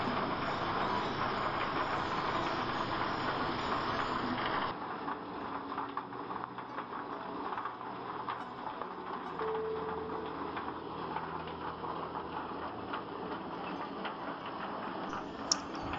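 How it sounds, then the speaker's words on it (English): A tractor-drawn maize huller hulls grain with a steady mechanical rumble and rapid ticking clatter, continuous and moderately distant, with no voices over it. "Here the grain is hulled using the tractor drawn huller"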